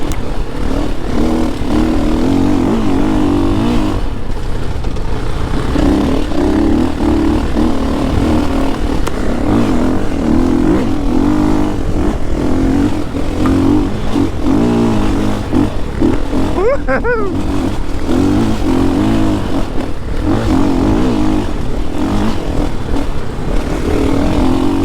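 A KTM 500 dirt bike being ridden, its single-cylinder engine droning loudly and steadily throughout with a rough, pulsing roar and brief revving near the middle.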